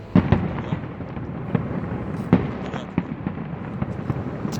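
Fireworks burst over Gwangalli beach in Busan, a scattered series of sharp cracks and booms at varying distances, a few louder bangs standing out above a murmuring crowd background.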